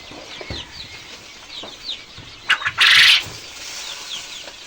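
Quail in a Bengali poultry setting chirp repeatedly, short high calls scattered throughout, with a brief burst of wing flapping near the middle, close and moderately loud.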